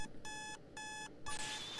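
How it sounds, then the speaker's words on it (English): An alarm clock in the Butterfly Soup video game beeps in bursts, with three evenly spaced electronic rings close and clear over quiet background. "the alarm clock is just gonna go the whole time for us"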